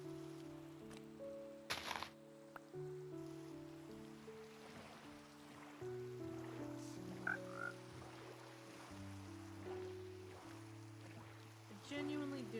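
A Minecraft frog croaks a few short, soft times beside water, over a gentle stream-like backdrop, calm melodic game music and faint trickling, all at low volume with no voices.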